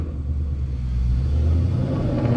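A Ford Mustang GT fitted with loud headers and axle-back exhaust gives off a deep, steady low rumble, close and loud, with rough crackling texture and no talk.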